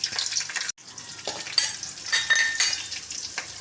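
Chopped onion sautéing with whole spices and ginger-garlic paste in a pan: a continuous close sizzle with scraping stir strokes, briefly interrupted by a short silence near the start.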